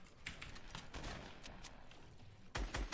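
Gunfire in a shooting video game: a string of quick, fairly faint shots crackling in irregular bursts, ending in a sharper, louder burst.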